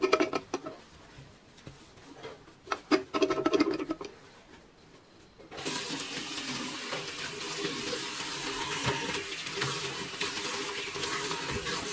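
Scrubbing and rattling in a home kitchen sink, then a tap opens and water runs steadily and fairly loud for the rest, close by with no talking.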